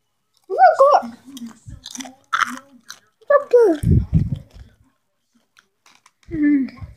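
Spicy sweet chili Doritos chips crunched and chewed close to the mic, with bursts of crunching between stretches of someone talking.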